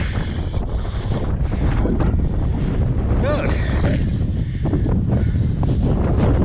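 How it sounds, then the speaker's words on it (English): Steady, heavy wind buffets the microphone outdoors in the Derbyshire Dales with a constant roar, and a voice speaks briefly beneath it. "It's a shame it's windy."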